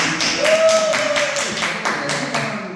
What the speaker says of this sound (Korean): 응원의 박수 보내주세요